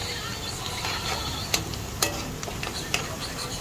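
Garlic is scooped out of a hot pot while pork soup is being cooked, with a continuous sizzle underneath and a few sharp metallic scrapes and clinks from a utensil against the pot.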